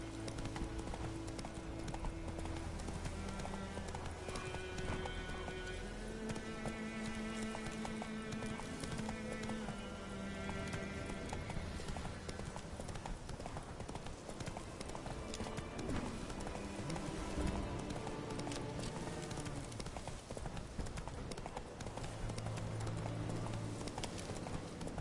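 Roach, the horse in The Witcher 3, galloping: continuous rapid rhythmic hoofbeats under game music and ambience, steady and loud throughout the run.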